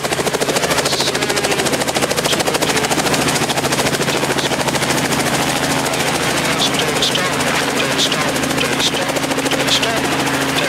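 A helicopter's rotor beats in a steady, loud, rapid chop with a constant engine drone during autorotation training flight, filling the whole stretch.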